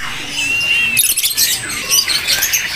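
Small caged birds at a bird shop kiosk chirp and squawk in bright, busy bursts over a steady background hum, several calls overlapping close by.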